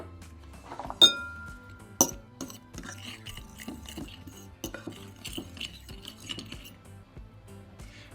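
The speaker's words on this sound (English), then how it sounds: "We're going to add half a teaspoon each of salt, pepper and garlic salt and 2 teaspoons of paprika to the flour and mix it together" Flour is stirred with salt, pepper, garlic salt and paprika in a bowl for sweet and sour pork. A utensil clinks sharply against the bowl, with two loud taps near the start and then lighter, irregular scraping and clinks.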